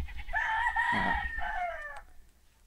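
Chickens in a backyard coop, with a rooster giving one loud, close crow over a brief cluck or two and no talk.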